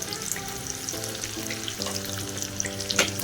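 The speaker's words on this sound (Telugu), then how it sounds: "ఆనియన్స్ వేసేసుకొని మంచిగా ఫ్రై చేసుకోవాలి" Steady oily sizzle of onions frying in a pan, with faint clinks and stirring noises throughout, close and continuous.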